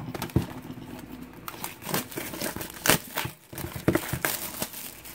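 Foil wrapper of a 2017 Topps UFC Chrome trading card pack being cut and pulled open, with close, irregular crinkling and tearing rustles.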